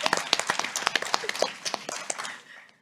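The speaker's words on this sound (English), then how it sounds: "we just want to start first just with a round of applause for all the business leaders" A small audience claps for business leaders at an investor day closing address, a short burst of distinct, close individual handclaps that thins out and fades within a few seconds.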